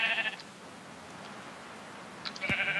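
Sheep bleating in Minecraft, two short synthetic bleats, one at the very start and another near the end, separated by a quiet stretch of low background hum.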